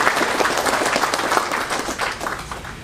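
A seated crowd at a peace prize award ceremony claps in welcome, a full, even burst of applause from many hands, loud and close, tapering a little at the end.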